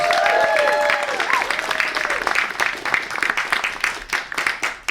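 An audience at a live comedy presentation applauds the presenters, with a voice speaking over the opening before the clapping thins into scattered, uneven claps.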